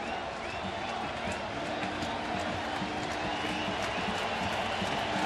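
Baseball stadium crowd during a Texas at Oakland game on a full three-two count, a steady broad roar of cheering and applause that holds loud and even throughout.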